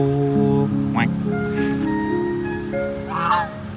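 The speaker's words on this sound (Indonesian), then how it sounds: "Fix ini angsa nggak sih?" A large white goose honks in a few loud, nasal calls close by, with one sharp honk and a later burst of several. Steady low background noise runs throughout, and a person speaks softly nearby.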